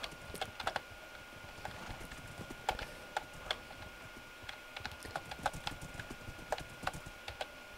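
Horse hooves clip-clopping in a Minecraft Mario Party minigame: a quick, steady patter of light, clicky hoof taps, fairly faint and continuous throughout.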